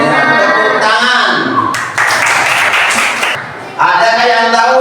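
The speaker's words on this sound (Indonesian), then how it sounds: "Dengan tepuk tangan." A class of young pupils applauds loudly, a dense burst of many hands clapping at once, close and continuous, with children's voices mixed in over it.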